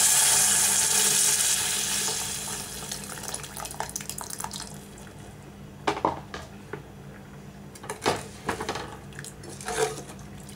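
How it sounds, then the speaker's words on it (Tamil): Tamarind water is poured into a pan of frying onion gravy, a rushing, sizzling gush that fades over about two seconds into scattered bubbling pops as the liquid settles. "இப்போ நம்ம கரைச்சி வச்சிருக்கிற புளி தண்ணி ஊற்றிக்கலாம்."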